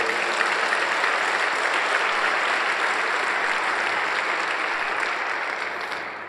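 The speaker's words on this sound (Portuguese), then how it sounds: "Dá um aplauso aí ao Senhor Jesus." A congregation of pastors at a church breakfast gathering applauds together, a thick, even roar of clapping that holds steady and then fades slightly near the end.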